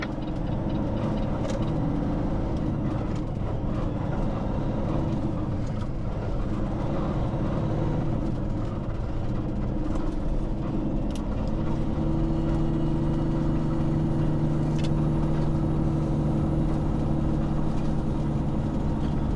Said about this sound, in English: Just playing with the engine brake there.